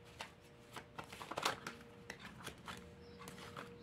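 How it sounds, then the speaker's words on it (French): Oracle cards being shuffled and drawn by hand for a reading, a run of quiet papery riffles and soft slaps, busiest in the middle, close to the microphone with no talking. "on va tirer une dernière carte qui va représenter un peu la conclusion du tirage"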